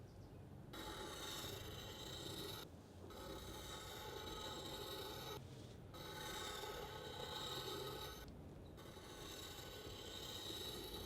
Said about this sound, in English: I'm going to draw another circle around there and do the same as before